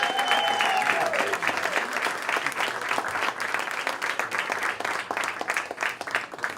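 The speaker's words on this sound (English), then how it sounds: "Let's give everybody a big round of applause to get this thing started." A crowd at a get-out-the-vote political rally for an Ohio governor candidate breaks into loud, sustained applause, with dense clapping throughout and a few whistles near the start.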